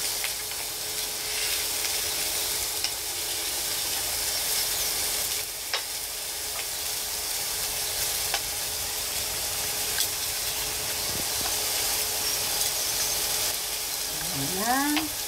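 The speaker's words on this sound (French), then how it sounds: "j'ai la place, vous voyez, dans ma sauteuse, d'y mettre la viande ainsi que les oignons. Tout peut dorer en même temps." Veal shanks and onions browning together in a sauté pan, a steady, dense sizzle that stays loud and even throughout, with a few faint clicks near the end.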